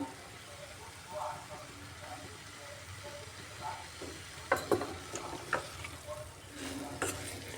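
Cabbage and potato with spices stir-fried in a pan over low gas heat, a soft continuous sizzle with occasional scraping and stirring clatters of a utensil growing busier toward the end.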